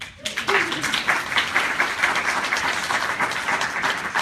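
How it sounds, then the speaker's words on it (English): Audience applause at an education presenters' event, a steady dense patter of many hands clapping that starts abruptly and continues throughout, fairly close and moderately loud, with faint voices mixed in. "I think that commends and requires an applause."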